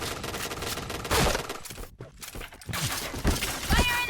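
Gunfire erupts in the Point Blank shooting game, with bursts of rapid shots, a brief silent gap, and then sharp single reports and weapon effects, loud and close.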